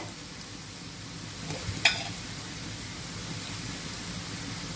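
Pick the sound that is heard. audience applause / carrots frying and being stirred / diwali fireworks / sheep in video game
carrots frying and being stirred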